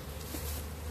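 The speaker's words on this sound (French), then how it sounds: "on voit qu'il y a une abeille qui rentre, une deuxième qui sort" Honeybees buzzing at a hive entrance during a spring inspection of a colony weakened over winter, giving a steady, close insect hum that runs without break through the short stretch.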